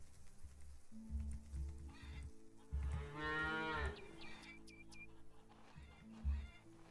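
Cows on a farm in Farmer's Dynasty give a long, drawn-out moo in the middle, surrounded by low ambient hum and a few faint clicks, with no voices.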